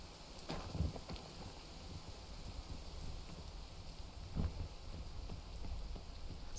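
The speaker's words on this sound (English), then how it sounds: "And now it's raining." Steady rain falls in a video game, probably near a cavern, as a constant hiss of drops with no break and a couple of slightly louder thumps.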